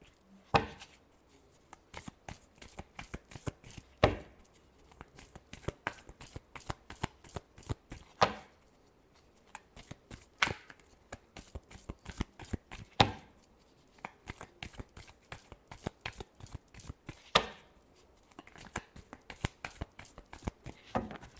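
Tarot cards are shuffled by hand for a reading: soft, close riffling and flicking in quick rhythmic bursts, with a sharper snap every few seconds as the deck is cut and squared, and no voices.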